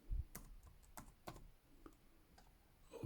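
A password is typed on a computer keyboard in a few soft, unevenly spaced key taps, quiet and close, with no one talking.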